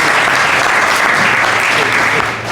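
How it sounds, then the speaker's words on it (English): An audience at a boxing press conference applauds loudly and continuously, a dense clapping roar that holds steady throughout. "Let's do a big round of applause for that face"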